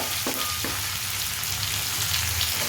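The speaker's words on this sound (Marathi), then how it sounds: "त्यानंतर हिरव्या मिरच्या बारीक चिरलेल्या टाकूया" Finely chopped green chillies and garlic sizzle in hot oil with a close, steady crackling hiss, a couple of soft taps early on, and no speech over it.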